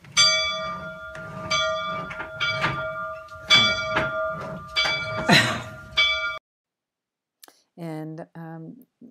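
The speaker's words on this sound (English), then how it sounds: "And I said, well, ring it." A large bell is rung by hand, struck about six times in an uneven rhythm with ringing tones that cut off abruptly, followed by a short voiced sound after a pause.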